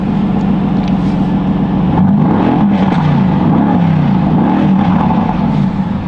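Inside the cabin of an AMG GT S fitted with a carbon air intake, the engine drones steadily for about six seconds, its pitch rising and falling as the revs change, with a constant road roar and no talking.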